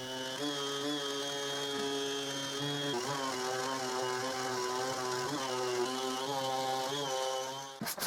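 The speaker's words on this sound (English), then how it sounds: "And I also sand everything with an orbital sander." An orbital sander runs continuously over wooden boards, making a steady loud motor whine with a slight dip partway through, and no voices are heard.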